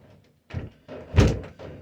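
A door shut close by, landing as one solid, muffled thud after a few softer shuffling knocks.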